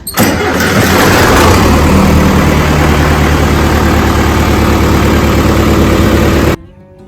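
A 76-horsepower tractor engine cranks and catches, then runs at a loud, rough idle for several seconds before cutting off abruptly, on a farm.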